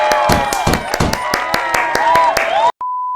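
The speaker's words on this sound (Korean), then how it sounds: "박수로 축하하도록 하겠습니다" A church congregation claps together in a steady, even rhythm during a Sunday worship service alongside voices and music, then it cuts off abruptly and a brief steady beep follows.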